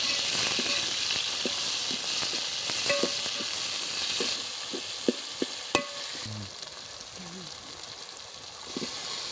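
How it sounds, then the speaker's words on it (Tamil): Chopped tomatoes sautéing in oil in a pan for Tamil fish curry, a steady close sizzle broken by scattered clicks and scrapes of stirring. "இது அப்படியே நல்லா வதக்க விடலாம்."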